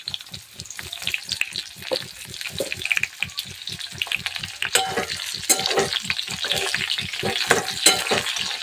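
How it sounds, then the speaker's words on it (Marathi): Bitter gourd pieces with salt stir-fried in a pan give a steady close sizzle, with quick regular scrapes and tosses of a spatula repeating throughout. "छान मिक्स करून घ्यायचं आहे"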